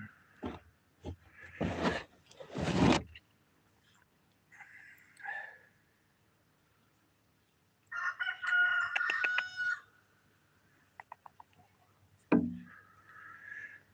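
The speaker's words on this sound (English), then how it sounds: "Oh, there's a rooster." A rooster crows loudly nearby in repeated bursts, with clucking and other fowl calls between, and quiet gaps in the middle.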